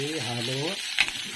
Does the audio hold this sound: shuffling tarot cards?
no